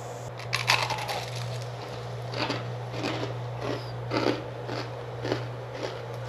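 A crunchy snack that tastes like funnel cake is bitten and chewed up close, giving irregular crisp crunches over a steady background hum during a walk through central Merida, Mexico.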